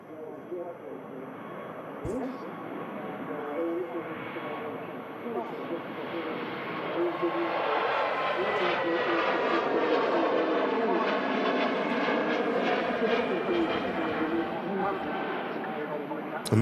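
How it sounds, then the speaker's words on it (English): A five-year-old Turkish Airlines Airbus A321neo departs Manchester Airport, a broad jet roar that swells steadily and holds loud to the end, with a voice talking over it. "The Turkish heading back out to Istanbul. A321 Neo."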